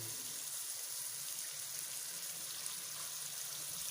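Water poured into a pot of pumpkin and chicken curry, a steady broadband rush of liquid running continuously and fairly quiet, with no talking over it.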